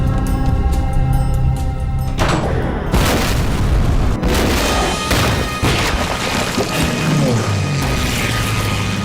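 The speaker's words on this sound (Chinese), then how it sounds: "日本军机的轰炸还是比想象中来得更快、更猛烈" Bombs explode in a Japanese air raid on Shanghai in a war drama: deep booms and crashing blasts roll loudly and continuously, layered with rumbling debris and mechanical noise.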